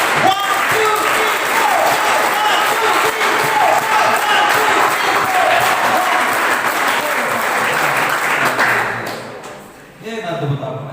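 An audience at a school session on exam fear for SSLC students clapping hands together in unison, a loud dense burst of rhythmic applause sustained for several seconds before it breaks off abruptly.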